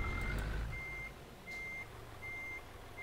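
Steady reversing beeps from a truck backing up in Euro Truck Simulator 2, a clear high alarm pulsing four times at an even rhythm over a low engine rumble.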